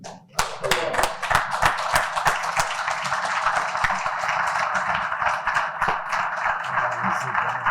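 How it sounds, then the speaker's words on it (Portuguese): A standing crowd at a trophy awards ceremony in the Algarve gives a sustained round of applause for Emílio Taylor, with dense, steady clapping from many hands, fairly near, continuing unbroken throughout. "uma salva de palmas para o Emílio Taylor"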